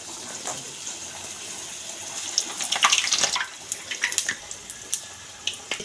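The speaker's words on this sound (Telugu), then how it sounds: "నూనె వేడెక్కింది పూరి వేసుకొని" Puris frying in hot oil for a puri sagu breakfast, a steady hiss and bubbling that swells in the middle with irregular crackles, heard close with no talking.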